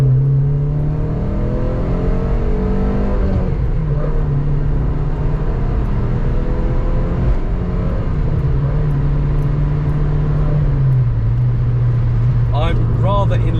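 An MG ZR 160 car engine climbs steadily in pitch as it revs to about 5,500 RPM, then drops back at a gear change, loud and close, with brief talk near the end.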